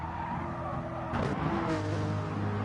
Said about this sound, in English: nice deep growling noise of that Corvette engine